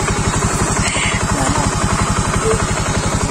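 A motorcycle engine thrums steadily and loudly on a rough mountain road toward Gunung Tilu, Tegalbuleud, with rattling clatter and vibration throughout and no clear talk over it.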